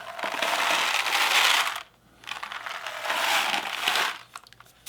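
A homemade rainstick filled with beans and pipe cleaners is tilted back and forth, giving two long rushing cascades of rattling beans separated by a brief pause, close and loud with no talking.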